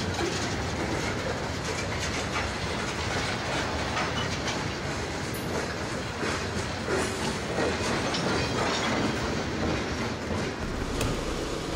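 An HO scale model coal train rolls steadily along its track, a continuous rumble with faint clickety-clack of wheels and no voices.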